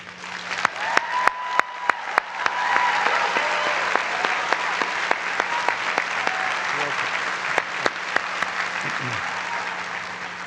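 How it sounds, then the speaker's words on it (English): Sustained applause from a graduation commencement audience at Bridgewater State University, steady crowd clapping filling the hall throughout, with sharp isolated claps standing out and faint voices murmuring underneath. "please join me in a warm round of applause for Bridgewater's finest"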